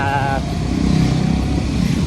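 A motorcycle ridden along a road, its engine droning steadily and close by, with a short tonal whine at the very start.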